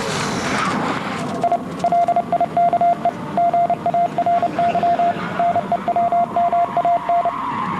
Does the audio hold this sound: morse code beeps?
yes